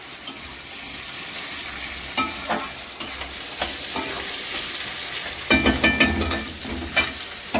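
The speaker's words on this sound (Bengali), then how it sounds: "পেঁয়াজটা লাল হতে একটু টাইম লাগবে, হতে থাকুক।" Onions frying in a pan for a festive home meal, a soft continuous sizzle broken by repeated scraping and clacking stirring strokes that grow busier toward the end.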